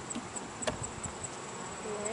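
Honeybees buzz softly in an opened hive box, a faint continuous hum with occasional brief louder passes close by.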